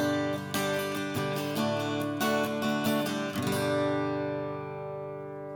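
An acoustic guitar with a custom carbon fiber build sounds through a HyVibe system with the reverb switched off, strummed and picked chords ringing close and clear before a final chord sustains and slowly decays.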